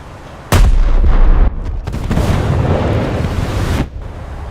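Ship guns firing in the naval video game War Thunder, aboard the USS Trenton: two loud, close booming blasts, each followed by a long rumbling roar and a sustained washing tail.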